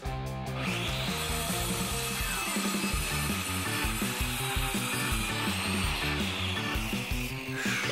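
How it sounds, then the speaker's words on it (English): Wooden boards being sawn with a power saw during home construction of a tiny house, a loud, continuous grinding whine with rhythmic pulsing from the blade cutting through wood, steady for the whole stretch. "we are about to start sawing!"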